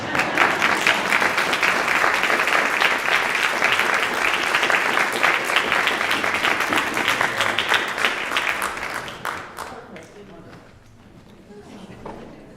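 Sustained audience applause, dense and even clapping from a full crowd, holds steady for several seconds before tapering off and fading into near quiet.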